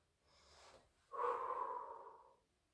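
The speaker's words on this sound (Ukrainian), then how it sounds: "Робимо вдих і видих." Breathing during a Pilates exercise: a soft inhale through the nose, then a longer, louder, breathy exhale, close and alone.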